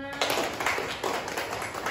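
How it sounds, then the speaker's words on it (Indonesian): Applause from a group at the close of an event, a dense burst of clapping that swells in a few waves and carries on steadily over a short stretch. "tepuk tangannya buat kalian semua"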